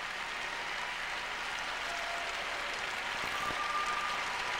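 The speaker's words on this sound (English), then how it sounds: "rather lukewarm applause from the audience" Lukewarm applause from a figure skating audience at the 1994 Lillehammer Winter Olympics, a steady, even wash of distant clapping filling a large arena.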